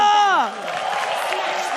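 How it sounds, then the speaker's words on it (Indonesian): A crowd in the Imperial Arena cheers and applauds during an esports match between Geek and RRQ. A brief raised voice at the start gives way to a steady, broad roar of crowd noise. "Imperial Arena, mana tepuk tangannya?"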